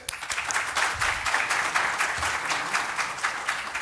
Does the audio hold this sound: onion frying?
no